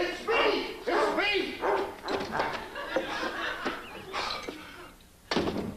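Barking from a dog in a sitcom home scene, repeated yaps and bow-wows heard close and loud over overlapping talk and laughter.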